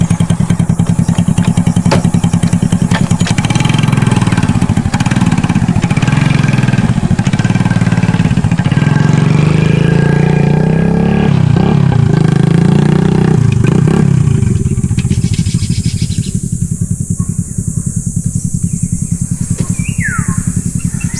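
A second-hand Rusi 125 motorcycle runs close by with a loud, steady engine note, rising and falling through revs before settling back toward a rough idle.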